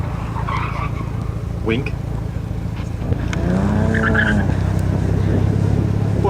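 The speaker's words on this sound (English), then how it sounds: "Porsche 944, crossing the line, clean run" Porsche 944 on a wet autocross course in the rain, engine revving and rising in pitch as it crosses the finish line, heard under a loudspeaker announcer's voice.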